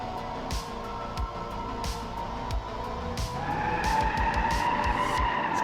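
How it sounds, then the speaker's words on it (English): A Ford Crown Victoria engine in BeamNG.drive revs hard and steadily in first gear, its pitch climbing and holding high, with brief tire skids and a few sharp clicks scattered through. "Just love revving this thing out in first gear."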